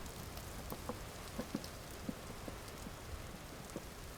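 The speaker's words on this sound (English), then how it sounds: "We got the rain." Steady rain falls in the video game Vintage Story, a soft continuous hiss with scattered faint drop ticks and no voices.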